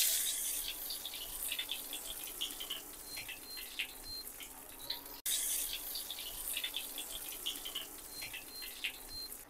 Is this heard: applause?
no